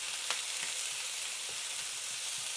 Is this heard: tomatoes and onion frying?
yes